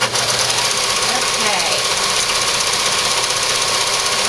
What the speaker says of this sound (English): I'm going to use a zigzag stitch